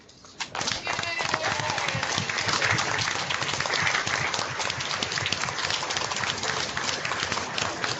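A room of listeners breaks into a warm, steady round of applause for a Pro Football Hall of Famer, starting after a brief quiet moment and holding evenly to the end.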